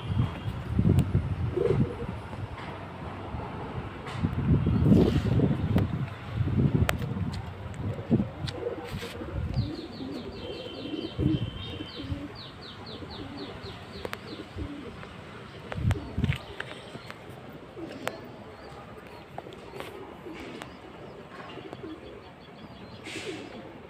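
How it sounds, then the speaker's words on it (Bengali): Pigeons released in the open coo and call intermittently at moderate distance, with soft wind and faint ambient noise throughout and no talking. "পায়রা এরকমই ছাড়া থাকবে।"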